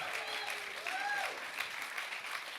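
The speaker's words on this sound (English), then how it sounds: "Give him a big round of applause." A live audience at a podcast taping claps and cheers, a dense sustained burst of applause with a few whoops rising above it.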